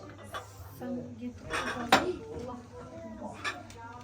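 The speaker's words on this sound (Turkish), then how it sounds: "Tabakları tek tek kaldıralım hadi böyle." Plates and dishes lifted and stacked one by one during iftar preparation at home, with close clinks of crockery and cutlery, one sharp clatter near the middle, and people talking alongside.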